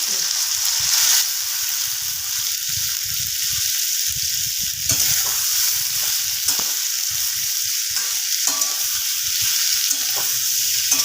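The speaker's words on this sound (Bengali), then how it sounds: "তেলটা গরম হয়ে গেছে এবার আমি আস্তে করে করে সোয়াবিনগুলো কড়ার মধ্যে দিয়ে দেবো" Water-soaked soybean chunks fry in hot oil in a wok, giving a loud, steady hiss that runs throughout with occasional crackles and soft stirring knocks.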